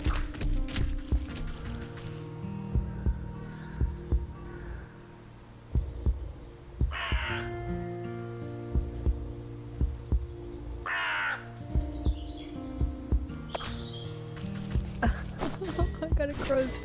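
A crow caws a few times at middle distance outdoors, short harsh calls spaced several seconds apart over a low steady hum and rhythmic thumping.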